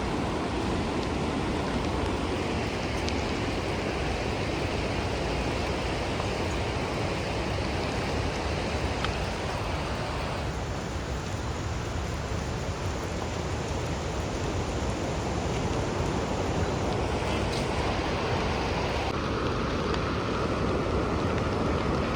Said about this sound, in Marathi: नदीला बघू शकता किती प्रचंड वेगाने नदी वाहते, किती डेंजर आवाज येतोय नदीचा.